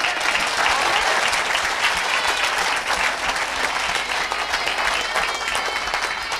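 A church congregation applauding and acclaiming the Lord: dense, sustained clapping from a large crowd, loud and continuous throughout.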